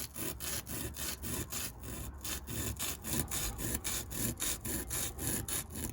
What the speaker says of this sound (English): So what I do is just start off by carving a basic channel.